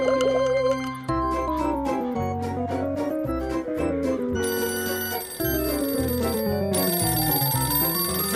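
A telephone rings at a cartoon zombie hotel reception desk, its bright electronic ringtone repeating over lively animated background music, loud and continuous with no talking.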